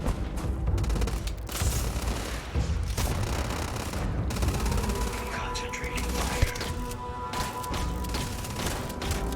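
Grenade blasts and rapid gunfire in a survival horror video game, dense overlapping booms and shots running steadily throughout with a voice talking underneath.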